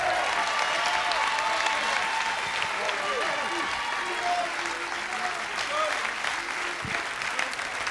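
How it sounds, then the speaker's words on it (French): A studio audience gives loud, sustained applause after a karaoke song at a French Saturday-night entertainment show, with cheers and whoops rising through the dense clapping. "Vous pouvez l'applaudir très fort."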